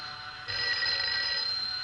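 A telephone bell rings steadily in a film soundtrack, a bright continuous trill that grows louder partway through and holds over faint background hiss.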